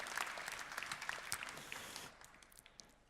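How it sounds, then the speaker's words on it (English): A crowd at a pitch competition gives a round of applause for a presenter: dense, steady clapping that thins and fades after about two seconds, leaving a few scattered claps. "Round of applause for Alex from Bindwise."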